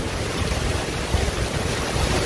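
Heavy rain pours in São Paulo as a loud, dense, continuous roar. Gusty buffeting runs through it, but no voices are heard.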